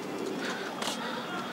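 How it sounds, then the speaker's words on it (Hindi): Soft pigeon cooing rises and falls close by, a low, throaty murmur heard briefly. "ये देखो ये कबूतर भी किसी का है"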